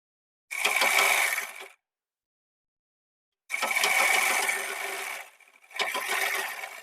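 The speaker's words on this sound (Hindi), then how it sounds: "यहाँ से हम लपकी सिलाई से इसको पक्का करेंगे।" Sewing machine running a folded-hem seam on a blouse, heard as two separate bursts of steady mechanical whirring, the second longer with a short dip before it resumes, with no voices.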